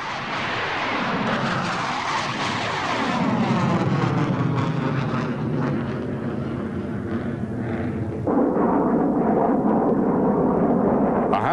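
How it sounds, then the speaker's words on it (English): Mikoyan-Gurevich MiG-23 Flogger jet aircraft flying past, a loud sustained roar that sweeps and shifts in pitch, with a sudden surge in intensity partway through. "Guided by radar, the MiGs head for home."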